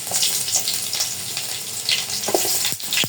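Chopped garlic sizzles steadily as it fries in a pan, a dense crackling hiss with a few sharper pops and scrapes near the end, no voices.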